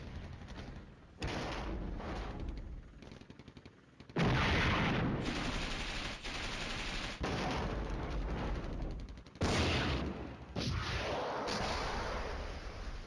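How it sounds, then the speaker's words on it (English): Mortar fire in the Flashpoint Campaigns Red Storm war game comes as a series of abrupt, loud blasts and rumbling bursts that start and stop in blocks, with no talking over them. "the mortars are going to hit them"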